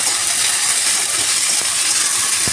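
Bitter gourd fries in a pan with a loud, close, continuous sizzling hiss and a few faint pops and clicks, no talking.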